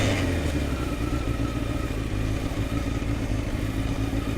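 A motorcycle engine drones steadily and close for the whole stretch, with a low rumble and some clatter that holds at an even level without clear revving peaks.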